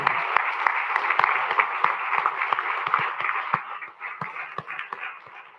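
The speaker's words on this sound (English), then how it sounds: "Give her a round of applause in this building." Applause fills a council meeting room, a crowd clapping steadily for several seconds before thinning out toward the end.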